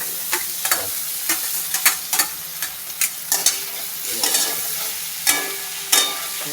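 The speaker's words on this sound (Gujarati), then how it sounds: "ધીમો ગેસ કરીને સાબુદાણા અંદર પેરી દેવાના" Sabudana (tapioca pearls) for farali khichdi is stirred in a pan over low heat, producing a continuous gentle sizzle broken by frequent crisp scraping taps of the spoon against the pan, near and fairly loud.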